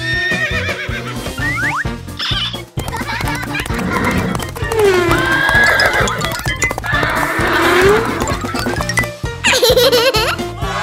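A toy horse neighs loudly with repeated whinnies amid a busy, musical mix of playful sounds and clip-clop effects, with children's laughter mixed in throughout.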